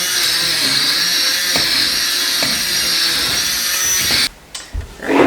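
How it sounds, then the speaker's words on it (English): An immersion blender whirs steadily through a molasses mixture in a home kitchen, a continuous close motor whine that cuts out abruptly near the end, leaving brief bumps and handling noise. "I'm just gonna use my immersion blender to kind of blend this up."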